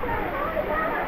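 Tumalog Falls, a waterfall in Oslob, Cebu, gives off a steady, close rush of falling water that stays even throughout.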